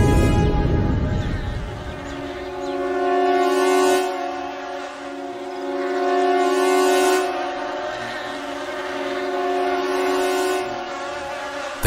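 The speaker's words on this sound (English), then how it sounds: "This time, it was a storm of flies." A cartoon swarm of flies makes a sustained buzzing drone that swells and fades in waves over a dozen seconds, with nothing else over it.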